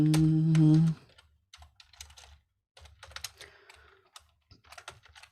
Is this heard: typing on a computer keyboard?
yes